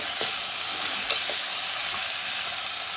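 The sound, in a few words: washed papdi vegetables added to hot garlic oil, frying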